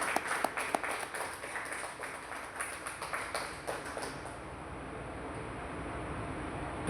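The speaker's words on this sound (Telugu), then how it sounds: "క్లాప్స్ గట్టిగా కొట్టాలి" An audience at a Telugu Ayurvedic medicine awareness meeting claps as a guest is called to the stage, a thin scattered round of applause that fades out after about four seconds.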